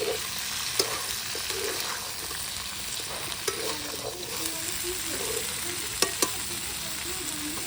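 Food frying in a pan at an outdoor family picnic, a steady sizzle with stirring and a few sharp utensil clicks, moderately loud.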